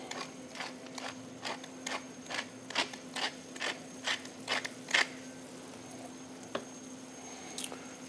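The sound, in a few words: pepper mill grinding white pepper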